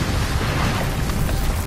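A big explosion deep in a World War I tunnel: a sustained, dense roar with heavy low rumble and broadband crackle, loud and continuous throughout without any clear break.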